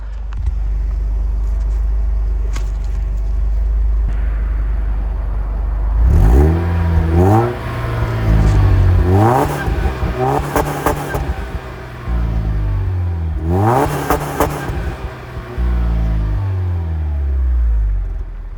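A Mercedes CLK 230 Kompressor idles with a low rumble and then revs its exhaust repeatedly, a series of sharp rising blips that fall back to idle, close and loud with a pause between bursts.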